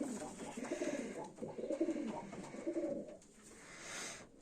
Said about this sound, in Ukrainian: Голуби ухожені, проглистовані, пропоєні